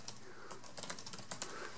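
Quick, irregular keystrokes on a computer keyboard patter in a short burst, close and fairly quiet.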